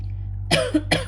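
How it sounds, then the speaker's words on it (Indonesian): Two short, close coughs a moment apart from a woman giving a Scorpio tarot reading, with a steady low hum underneath. "sorry aku batuk"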